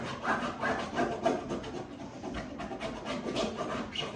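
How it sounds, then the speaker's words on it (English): A Make It Match roller is pressed and rolled over a vinyl plank transition strip on a flat floor, giving a steady close scraping, rubbing rumble throughout with no talk. "I'm going to go ahead and use my Make It Match roller."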